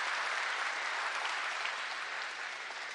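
Dense, steady applause from a crowd of factory workers at manufacturer FALK Production in Walker, Michigan, filling the space evenly and loudly for the whole stretch with no break.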